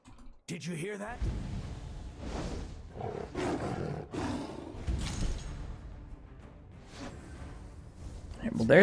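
Pit Lion roar from the card game The Elder Scrolls: Legends, a series of deep, growling roar bursts rising and falling over several seconds amid game effects, with talk running underneath.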